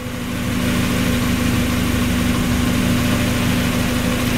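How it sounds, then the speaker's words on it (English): A Mazda Miata engine idles steadily at close range, a continuous low hum with a constant tone and no speech, holding even throughout while the base idle speed is being adjusted. "we're going to raise the engine idle speed, the base idle speed"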